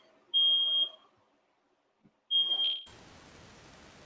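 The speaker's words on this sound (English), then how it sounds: "Yeah, that's a fire alarm." A household fire alarm sounds two loud, sustained high-pitched beeps close by, separated by a silent pause, followed by a low background hiss.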